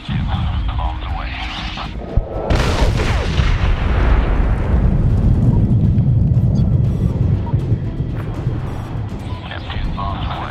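Bombs from aircraft burst in Medal of Honor (2010): a sharp blast at about two seconds swells into a long, heavy rumbling roar that lingers, with radio chatter from voices running underneath.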